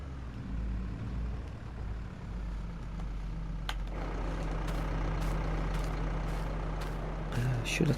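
Truck engine idling in a console farming game, a steady low rumble with a faint tonal hum, a few short clicks and a brief burst near the end, with quiet talk over it.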